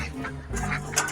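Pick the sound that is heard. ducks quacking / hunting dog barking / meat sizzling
ducks quacking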